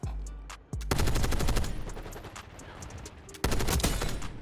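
Rapid automatic fire from the XMG in Black Ops 6, a loud close stream of shots in two long bursts separated by a brief pause, with no talk over it.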